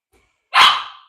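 A dog lets out a single sharp bark, close and loud, against an otherwise quiet background.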